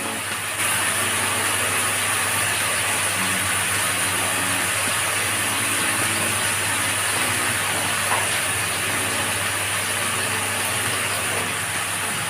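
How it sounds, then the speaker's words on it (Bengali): Kolmi shak greens with salt and turmeric sizzle and hiss steadily in a frying pan, a continuous close frying noise with faint stirring scrapes throughout. "এবার আমি নেড়ে নেব।"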